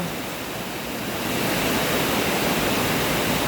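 Heavy rain pours down during flooding, a loud, dense, steady hiss that swells slightly and then holds without a break.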